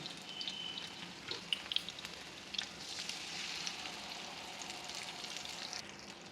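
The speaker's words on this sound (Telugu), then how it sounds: "వంకాయలు మగ్గాయి ఇప్పుడు రెడీ చేసి పెట్టుకున్న గ్రేవీ పోసి ఉడకనిద్దాం" A pan of stuffed brinjal curry with gravy bubbles and sizzles steadily over heat, a continuous soft crackle with a few brief louder pops, close and without any voices.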